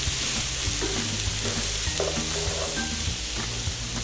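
Garlic and onions sizzling steadily in a hot pan as they are stirred around, a close, continuous frying hiss with soft scraping movements and no talking.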